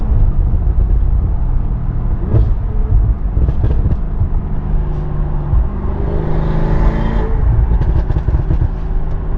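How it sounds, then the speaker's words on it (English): Stage 3 tuned Audi S6 on the road with a steady low engine drone and scattered crackling exhaust burbles and pops, heard from inside the car without talk. "I love having burbles"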